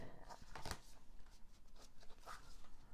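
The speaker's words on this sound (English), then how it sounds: "gonna shuffle again because for some reason pile 2" Tarot cards are shuffled close by, a soft continuous riffling and flapping with a few crisper snaps, fairly quiet throughout.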